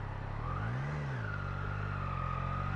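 Triumph Daytona 660 motorcycle engine on a first ride, a steady close engine hum that swells in a short rev around the first second, with pitch rising and settling over continuous road and wind noise.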